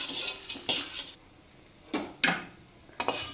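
Garlic and asafoetida dry roast in a pan without oil, heard as short, close bursts of scraping and stirring separated by near-silent gaps.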